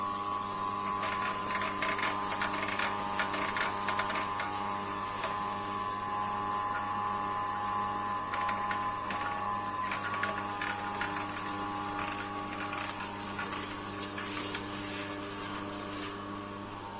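A small stainless steel oil press for aromatic seeds such as cloves runs steadily, giving a continuous mechanical hum with a tonal whine and rapid ratcheting clicks, close and even throughout.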